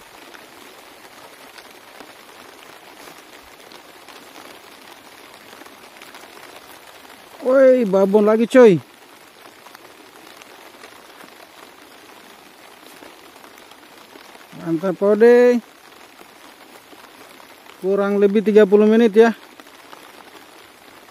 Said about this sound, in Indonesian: Soalnya lagi hujan ya, hujan deras.